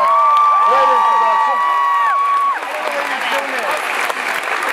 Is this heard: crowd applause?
yes